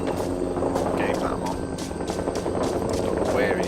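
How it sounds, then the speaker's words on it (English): Helicopter rotors in the video game Rising Storm 2: Vietnam thump steadily in the background while a person talks over them, with occasional sharp bursts mixed in. "So there's actually helicopters in this"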